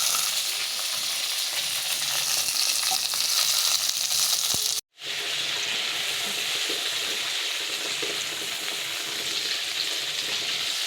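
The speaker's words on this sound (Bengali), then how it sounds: "জিরে ও তেজপাতা ভাজা হয়ে যাওয়ার পর আমি অ্যাড করে দিচ্ছি টমেটোগুলো" Tomatoes frying in a pan with cumin seeds and bay leaves for a daliya khichdi, a steady close sizzle with faint stirring that cuts out for a moment near the middle, then resumes. No one speaks.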